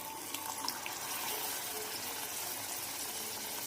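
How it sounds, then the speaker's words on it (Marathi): Water rinsed from a mixer jar is poured into masala paste frying in a pan for paneer masala, making a continuous rushing, hissing gush that stays even and close throughout. "मिक्सरच्या भांड्यामध्येच पाणी टाकले आणि ते पेस्टचं जे राहिलेलं होतं ते पाणी मी आता ह्याच्यामध्ये ॲड करते"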